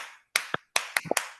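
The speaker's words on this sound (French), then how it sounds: "nous allons donner une acclamation exceptionnelle à notre Seigneur qui nous a permis d'être là jusqu'à la fin" A handful of sharp, separate handclaps in an irregular rhythm ring out close and fairly quiet, with near-silent gaps between them, offered as an acclamation at a religious gathering.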